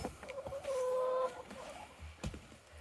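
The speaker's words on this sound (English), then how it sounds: "Well, I have 5 chickens." Hens clucking close by in a backyard coop in cold weather, a few short clucks and one drawn-out tonal cluck mid-way, fairly quiet with small rustles between, no talking.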